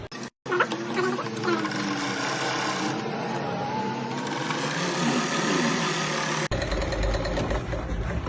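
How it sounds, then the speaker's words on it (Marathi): A sewing machine runs steadily to double-stitch the seam of a katori blouse, a close, continuous mechanical whirr with a brief pause near the start and a shift in tone toward the end. "डबल शिलाई मारून घ्यायची"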